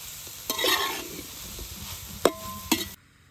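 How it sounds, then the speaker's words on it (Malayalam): A Wayanad-style jackfruit stir-fry (idichakka upperi) is stirred in a pan, with a few sharp scrapes and clatters of the spoon over a soft, steady frying hiss, close by with no talking. "അതിന് ശേഷം മൊത്തമായിട്ട് ഫുള്ളൊന്ന് ഇളക്കി റെഡിയാക്കി വെക്കുന്നുണ്ട്."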